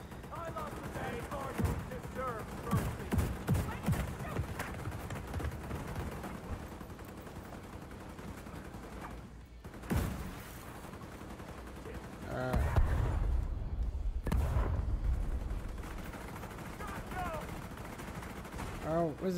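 Bursts of gunfire in The Division 2 crackle through a busy game soundscape, rapid automatic shots in repeated clusters with a heavier thump near the middle, while a player talks over them.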